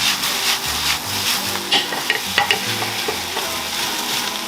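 Garlic, shallots, basil and oregano sautéed in olive oil in a cast iron skillet, a close steady sizzle under repeated scraping and tossing strokes, with a cluster of sharper knocks midway and no voices.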